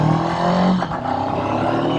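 Honda CB500X motorcycle engine with a 6-speed transmission, running steadily and loud with a slight dip in pitch as a gear shift happens midway, heard close and alone.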